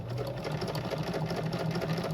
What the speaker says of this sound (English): And then back stitch a little bit and cut.